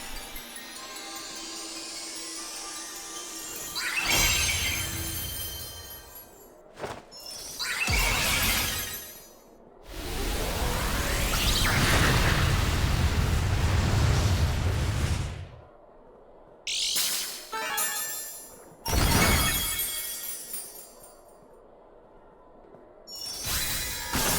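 In a Pokemon battle, a Tera Normal Explosion move erupts in long bursts of shattering, roaring blast noise, broken up by short crashes and silent gaps, loud and dense with no voices.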